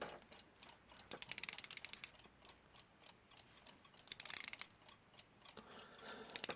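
A Smiths 30-hour clock with a dodgy ratchet is wound by key, giving fast, dense, close clicking of the ratchet and pawl in uneven bursts.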